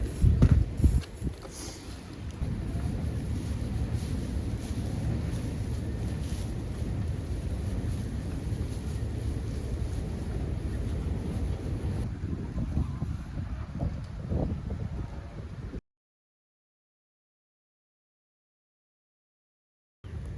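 Cold winter wind buffets the microphone outdoors near a horse stable, a steady rough low roar lasting about fifteen seconds before cutting to silence, with a brief burst returning at the very end.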